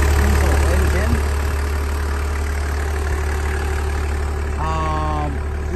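A Toyota LandCruiser 70 Series HZJ73 with a 4.2 liter straight diesel engine idles steadily and close by, a continuous low rumble throughout with a brief harmonic tone near the end.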